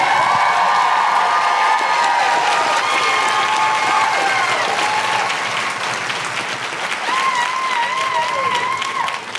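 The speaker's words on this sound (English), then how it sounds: "And keep that applause going, only builds it." A theatre audience in Christchurch claps and cheers loudly, a full roar of applause with whoops and shouted calls riding over it throughout, fading slightly later on.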